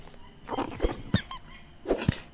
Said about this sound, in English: It's a squeaky fish!